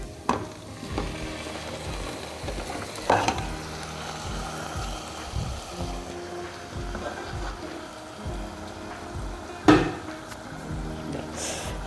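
Masala-marinated chicken for a chicken curry sizzles steadily in a pan, with occasional scraping clatters of a spoon stirring it, close and moderate in volume.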